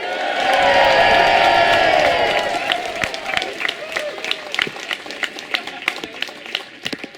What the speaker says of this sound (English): a very loud cheer for all the people who've done that work would be marvellous